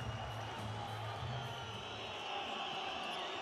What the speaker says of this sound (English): Great crowd at the Belgrade Arena.